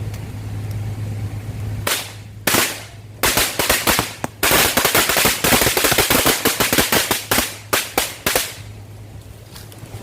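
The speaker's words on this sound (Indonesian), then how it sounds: "Yang pertama kita cobain 2 gepok petasan korek" Two packs of small matchstick firecrackers lit outdoors go off in a loud, rapid string of sharp cracks, with sporadic pops at first building into a dense crackling run that thins toward the end.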